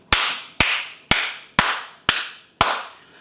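Six sharp hand claps, close and crisp, fall at a slow, even pace about half a second apart, each with a short ringing tail.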